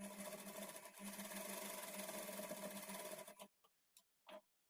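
A sewing machine stitches the main darts of a lined blouse, a steady close mechanical hum running for about three seconds before stopping, followed by a couple of brief handling sounds.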